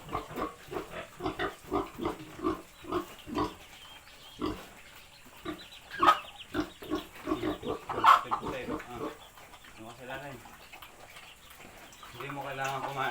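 A farm pig grunts in a rapid rhythmic series of short snorts, close by, while a person speaks nearby and other livestock sounds mingle in toward the end.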